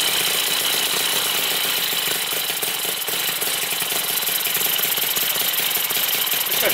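A miniature Harley-Davidson V-twin Panhead engine, running on a 25-to-1 oil mix while clamped down, buzzes loud and steady at close range with a dense, rapid, unbroken rattle.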